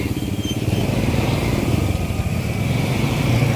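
A three-wheeled motorcycle engine chugs steadily in a Malaysian village, a continuous close buzzing drone with a rapid low pulse and no pauses.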